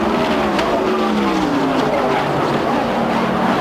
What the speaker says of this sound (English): Oh, we have a problem. Blowing the tire.